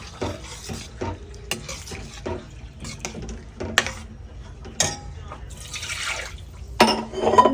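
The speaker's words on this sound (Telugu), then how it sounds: "ఇంకా కొన్ని వాటర్ యాడ్ చేస్తాను" Water is poured into a pot of chicken curry in a brief splashy rush near the end, among sporadic stirring clinks and scrapes, with a voice faintly talking.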